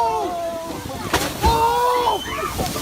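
A whale leaps beside a tour boat and crashes back into the water with a sharp splash, followed by sloshing water amid excited voices.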